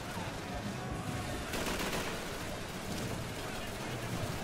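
Enemy gunfire in Call of Duty 3, a dense, faint rattle of automatic shots mixed into a constant noisy battlefield wash.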